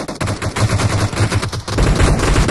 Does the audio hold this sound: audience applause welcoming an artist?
no